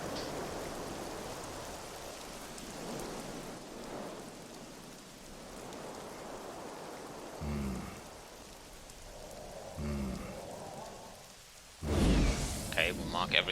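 Steady rain in The Witcher 2 fills the scene as a continuous hiss at moderate level, with a few short thumps partway through and a louder burst near the end.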